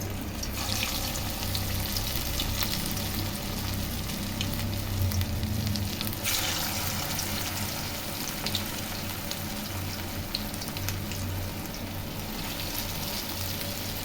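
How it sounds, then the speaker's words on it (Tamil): Egg cutlets frying in hot oil in a pan, a steady, even sizzle with faint crackles, moderately quiet and heard alone without talk. "பேனில் எண்ணெய் காய்ச்சிட்டு இருக்குது நம்ம அப்படியே மெது மெதுவாக போடுங்க"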